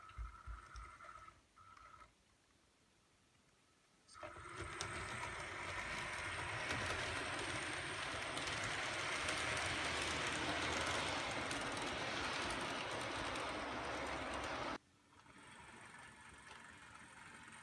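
Blue box model railway locomotives run on a home layout with dirty track, their motors rising from a quiet whir into a loud, sustained rumble and clatter that cuts off abruptly near the end.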